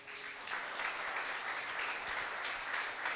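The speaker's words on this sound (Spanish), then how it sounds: "Quiero que le den un aplauso a Jesús" A church congregation applauds during a sermon, a steady, dense wash of many hands clapping together, fairly soft and distant, running unbroken throughout.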